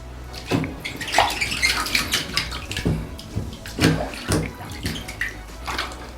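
A Vessi waterproof shoe or Chelsea boot is plunged into water, giving irregular splashes and sloshing gurgles at close range, several distinct bursts over a few seconds.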